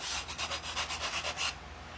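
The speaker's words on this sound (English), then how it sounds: "I got to do a little sanding." Quick back-and-forth sanding strokes rasp along the edges of a wooden crow craft kit piece, about ten close rhythmic rubs that then stop.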